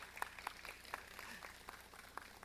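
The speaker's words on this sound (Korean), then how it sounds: "현직에 박수 한번 쳐드리죠." An audience at an ICT convergence forum keynote gives faint, sparse applause, individual claps scattered irregularly and heard from a distance.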